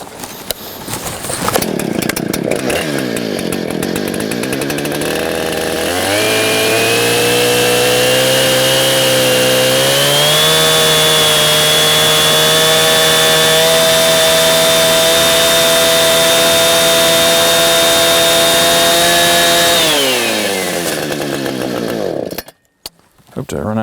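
Gas chainsaw cutting a freehand mortise and tenon in wood, the engine revving up and holding a loud, steady high-pitched whine for most of the cut before dropping back to idle.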